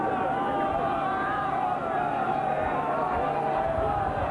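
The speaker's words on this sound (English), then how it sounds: "And this noise from the crowd" A large racecourse crowd roars at the start of the 1993 Grand National, a dense, continuous wall of distant cheering and babble that holds steady throughout.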